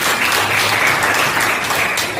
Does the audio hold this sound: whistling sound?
no